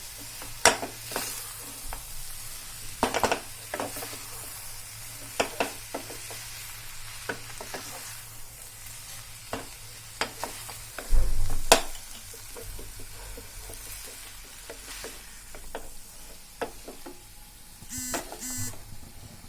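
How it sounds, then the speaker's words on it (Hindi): Cluster beans and boiled potatoes stirred in a frying pan for a Sindhi dish, with a steady low sizzle under repeated scraping spoon strokes and a sharp clatter midway, close and without talk. "अब ये ग्वारफली और आलू को जो हमने उबाल के रखा था, इसको डाल देंगे इसमें। इसको अच्छे से मिला के"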